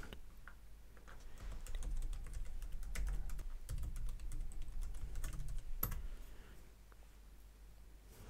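Typing on a computer keyboard: quick, uneven runs of close key clicks, busiest in the middle and then thinning out to a few scattered taps.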